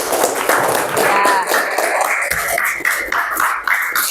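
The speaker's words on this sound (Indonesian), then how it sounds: "Beri tepuk tangan." Applause from an audience at a classroom-style training session, with dense, steady clapping running for about four seconds while a voice carries on over it.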